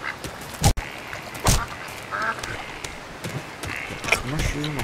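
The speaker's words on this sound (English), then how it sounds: "we've got to go and hit this duck" A duck quacks in The Lord of the Rings: The Fellowship of the Ring video game, set in Bywater, with a few distinct nasal quacks spaced out over game sounds and a speaking voice.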